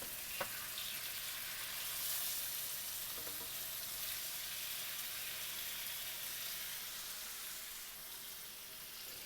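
Sweet potato pieces fry in hot oil for home fries, giving a steady, close sizzle that holds level throughout, with a faint clink near the start and no talking.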